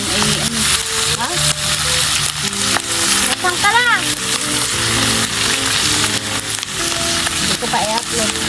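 Chicharon frying in hot oil, a loud continuous sizzle and crackle with a utensil stirring through it, close by, with faint voices talking underneath.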